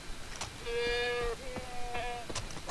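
A goat bleats in the Far Cry 3 video game, one drawn-out wavering cry followed by a second shorter bleat, fairly close and clear over faint game ambience.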